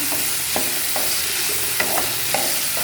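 Mango pickle dusted with turmeric powder is stirred in a pan for a quick wedding-style batch, giving steady close scraping and soft sizzling with a few sharper clacks, no voices.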